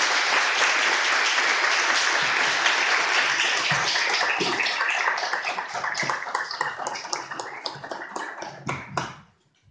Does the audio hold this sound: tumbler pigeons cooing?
no